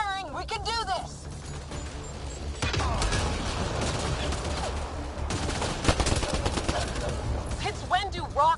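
Rapid gunfire from the Mass Effect video game rattles in dense bursts over mechanical clatter, with voices talking over parts of the fighting.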